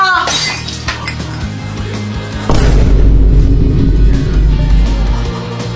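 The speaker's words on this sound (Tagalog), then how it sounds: "Nabasag mo yung base ni Mama!" A glass vase shatters in a sharp, bright crash at the start, with scattered tinkling fragments, followed by a heavy low boom and rumbling music-like noise that swells loudly midway.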